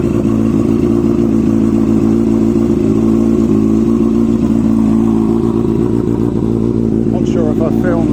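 A Yamaha Fazer motorcycle with a modified exhaust idles and revs nearby, a loud, deep, steady engine burble throughout, with a voice briefly heard near the end.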